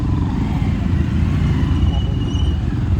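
A motorbike rumbles steadily and close while being ridden and turned, with a constant low engine drone and road noise and no clear revving.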